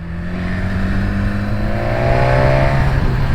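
A 2019 BMW S1000XR's inline-four motorcycle engine revs up close, its smooth, loud whine climbing steadily in pitch over a few seconds, with no speech.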